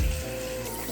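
Running water from a sink tap while a face is rinsed, a steady near splashing hiss lasting under a second with no voices.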